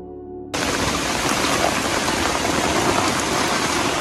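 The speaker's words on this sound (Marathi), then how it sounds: "अतिशय पाऊस आहे. तुम्ही पाहू शकता." Heavy monsoon rain in the Konkan region, heard from under an umbrella, bursts in after half a second as a loud, steady, dense hiss that continues without a break.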